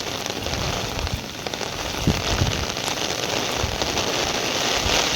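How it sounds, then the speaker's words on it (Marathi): Heavy rain pours steadily in a village during a strong wind, a dense continuous hiss of drops drumming on surfaces at close range with a few louder splashes, no voices. "पाऊस आता खळणार ना या."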